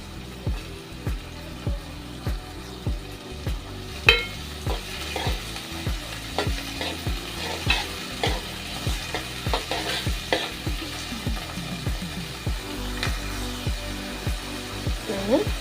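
Onions and tomato with curry leaves frying in a pan for an okra stir-fry, a spatula scraping in a steady rhythm of close strokes over continuous sizzling.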